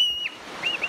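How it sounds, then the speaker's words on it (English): A single sharp, high marmot alarm whistle sounds, then drops off, followed by two shorter faint whistles, outdoors in the mountains. "This area is full of marmots. They sound the alarm when danger approaches."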